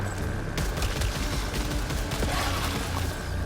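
Steady gunfire crackles in the sci-fi shooter video game Returnal, a dense, continuous barrage of shots and booms at constant loudness with no voices.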